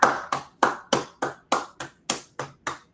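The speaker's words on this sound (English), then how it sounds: "clap it up" A congregation at an Israelite School of Universal Practical Knowledge Sabbath service gives about ten sharp, evenly spaced claps in unison, each one crisp and close, with brief silence between strikes.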